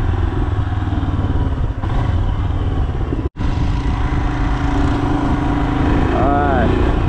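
A motorcycle rides through a city neighborhood, engine rumbling and wind roaring steadily past an open helmet visor, loud and continuous with one brief dropout midway.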